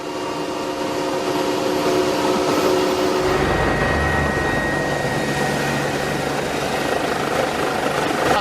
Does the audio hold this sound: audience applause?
no